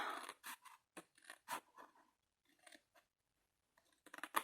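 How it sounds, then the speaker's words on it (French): Scissors snip paper straight along a fold in a run of close, crisp cuts with short pauses between them, then a final quick burst of snips, all near and quiet. "Au premier pli, on va couper ici tout droit."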